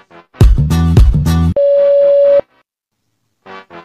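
A telephone call tone heard while dialing a number: loud, steady electronic tones in a couple of bursts, followed by a sustained single-pitch tone, then silence and two short tone pulses, close and clean with no talking.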